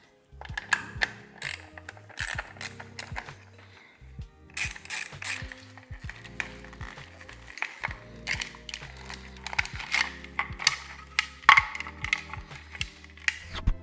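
Ratchet wrench working loose the headlight bucket of a vintage Honda motorcycle, rapid clicking pawl runs in repeated close bursts with brief pauses between strokes.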